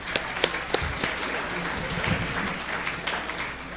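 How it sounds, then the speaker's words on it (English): An audience at a city State of the City address applauds the arriving Mayor Pro Tem, a few sharp claps first, then a steady round of clapping that fades slightly toward the end. "Let's give him a round of applause."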